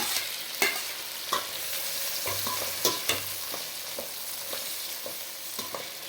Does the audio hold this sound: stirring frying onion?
yes